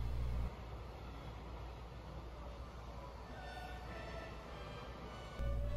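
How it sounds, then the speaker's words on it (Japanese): A freight train passes through JR Maya station on the Kobe line, a steady low rumble and wheel roar that fills a few seconds and stays even in level before a brief change near the end. "ちょうど貨物電車が通過していきましたね"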